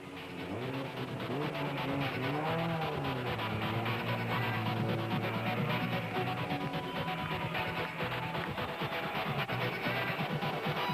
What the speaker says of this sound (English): Duncan Foss and Richard Leake who piloted the Nissan Navara home in 14 hours and 53 minutes